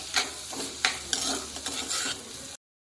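Onion, shallots, ginger and garlic sauté in a pan for a Kerala-style prawn roast, giving a close sizzle marked by several quick spatula stirs and scrapes before the sound stops abruptly.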